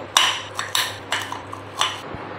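Knife halving baby corn on a board, five or so crisp separate cuts with light knocks, close and clear in a quiet kitchen.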